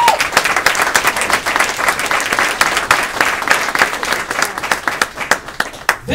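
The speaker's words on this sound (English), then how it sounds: "Give these young men a round of applause." Audience at a corporate training event applauding young men, a burst of lively clapping from a modest crowd with sharp individual claps standing out, fading a little toward the end.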